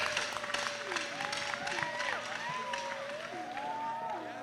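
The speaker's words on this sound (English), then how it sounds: "Let's give him a big round of applause." Audience applause at a St. John's IceCaps hockey jersey unveiling, greeting the new coach, with a crowd clapping throughout, mixed with background chatter, faint whoops and a voice talking over it.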